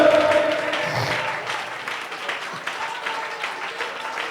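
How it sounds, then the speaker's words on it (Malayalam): Church congregation at a fasting prayer meeting clapping hands in praise, a dense burst of applause that starts strong and tapers into a steadier patter, with a voice briefly over it. "കൈയടിച്ച് ദൈവത്തെ സുഭിച്ചാട്ടെ, കൈയടിച്ച് സുഭിച്ചാട്ടെ"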